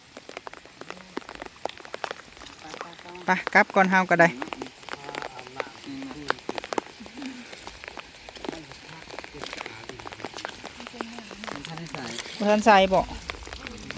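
Steady rain pours down during a storm at a construction camp, a continuous hiss of drops on surfaces with voices talking over it at moments.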